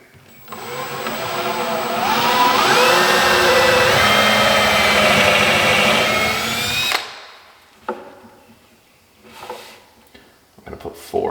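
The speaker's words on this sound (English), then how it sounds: "drill these in." A cordless power drill drives screws into ready-to-assemble kitchen cabinets, running as one loud, steady whir for about six seconds, then stopping, followed by scattered knocks and handling noises.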